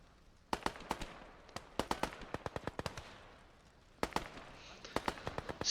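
MP44 assault rifle gunfire in the WWII strategy game Gates of Hell, loud sharp cracks in short bursts and quick semi-rapid strings, separated by brief pauses, with more distant shots behind.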